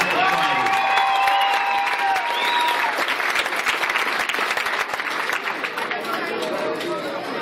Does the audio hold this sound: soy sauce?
no